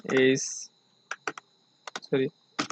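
HTML code being typed on a computer keyboard produces quick, close key clicks in short bursts between and under a man's speech.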